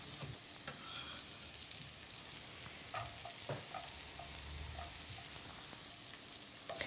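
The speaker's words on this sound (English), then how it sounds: "So I always let onion and celery start frying and sweating down first before I put in the garlic." Onion and celery frying and sweating down in a pan, a soft, even crackling sizzle like light rain with occasional faint stirring taps, quiet and steady throughout.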